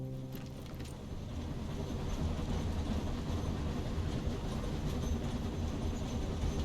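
Train pulling into a station in an MMO game, a steady rumbling roll with clattering wheels building slightly in loudness and holding constant, no speech.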